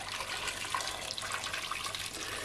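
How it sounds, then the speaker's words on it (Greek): Boiling water is poured from a kettle over salted potatoes in a pot, a steady close splashing and gurgling stream lasting throughout without speech. "Θα βάλουμε βραστό νερό"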